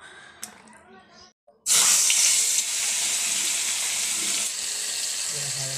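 A kitchen tap gushes steadily while rui fish is washed under it. The loud, continuous rush of water starts abruptly after a quieter opening with a brief voice and lasts to the end.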